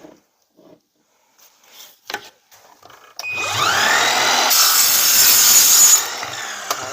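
An LS 218M mini angle cutter saws through duct at a 45-degree angle, a loud, close, steady abrasive whine running about three seconds after a few light handling knocks, then cutting off.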